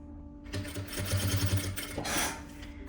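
A sewing machine stitches a vest with a close, rapid mechanical chatter that starts after a brief quiet lead-in and runs steadily to the end, swelling slightly near the finish.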